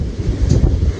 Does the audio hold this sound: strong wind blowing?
yes